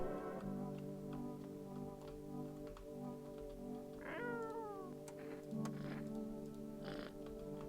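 A video game cat meows several times, drawn-out plaintive calls over a steady humming game soundtrack with faint ticking, fairly quiet and without talk.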